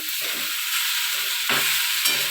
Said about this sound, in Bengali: মা এখানে যে আলু কেটে দিল তো আলুটা ভাজা করছে